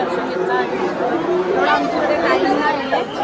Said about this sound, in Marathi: गर्दी खूप आहे बघा किती गर्दी आहे खूप गर्दी आहे